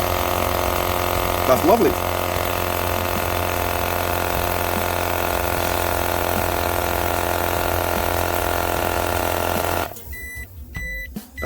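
An UPbeatplus tire inflator pumps air into a tire through a valve, a steady loud motor drone that runs almost the whole time and cuts off near the end, with a voice speaking briefly over it.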